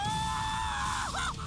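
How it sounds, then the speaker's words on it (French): A female character in the video game Attack on Titan 2 gives a drawn-out, strained high cry that rises and wavers, then breaks into short, sharp yelps, loud and close with no talk over it. "Elle nous sort des petits cris"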